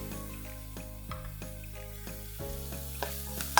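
Fresh thyme and rosemary sizzling briefly in a pan for a herb pasta sauce, a soft, close frying hiss under a steady tonal hum, with a few small clicks and a sharper knock at the end.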